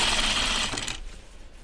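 A sewing machine runs fast and close along an elastic seam on a pair of Free Range slacks, giving a dense mechanical whir for about a second before it winds down and stops.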